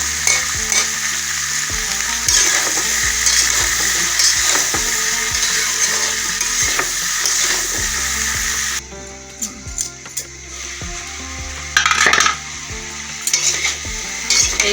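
Vegetables for sambar cooking in a pot, stirred so they boil through, giving a steady bubbling sizzle with scraping stir strokes that drops quieter partway before a few louder clatters return.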